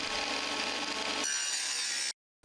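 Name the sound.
power saw cutting timber on Aldi saw bench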